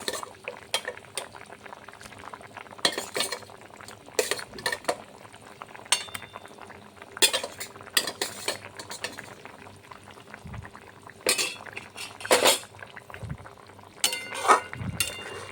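Fish goes into a simmering potato curry and is stirred, with soft bubbling under irregular clinks and scrapes of a spoon against the pot, close and moderately quiet.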